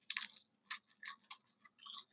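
Crunchy food is chewed close to the microphone, with a string of sharp, irregular crunching bites and short pauses between them, and no voices.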